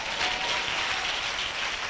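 Sustained applause from a church congregation at a Sunday service, a dense, even wash of clapping hands filling the room at steady loudness for the whole stretch, with no voices standing out.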